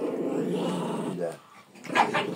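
A dog growls and gives a few barks, fairly close and moderately loud, with a soft human voice murmuring between the sounds.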